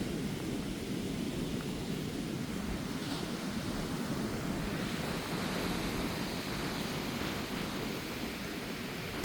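Rough sea surf pounding the shore at Pokkanai on the Mullaitivu coast, a steady, loud, broadband roar of breaking waves with wind buffeting the microphone throughout and no voices.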